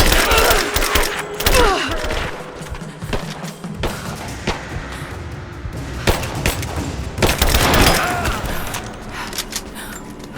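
Video game gunfire in Rise of the Tomb Raider rattles in bursts and single loud shots, mixed with thuds and booms while soldiers shout over the fighting.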